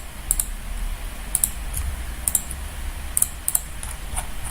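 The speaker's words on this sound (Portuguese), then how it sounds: "você fica apertado no Ctrl e clica na frase" Computer keyboard and mouse clicks come close and crisp, as a Ctrl key is held and the mouse clicked, in short bursts of two or three over a steady low hum, with no voices.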